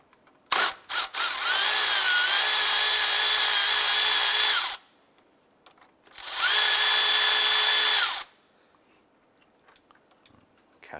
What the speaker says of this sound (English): Using our 10mm socket and extension, we're going to go ahead and undo the 10mm bolts holding the fan